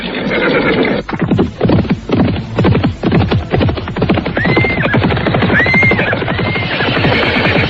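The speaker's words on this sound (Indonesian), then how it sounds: "Ayo kita susul gerobak kuda itu." Horses' hooves clip-clop in a dense, rapid rhythm as a horse-drawn cart moves along nearby, with a few whinnies rising over the steady trotting.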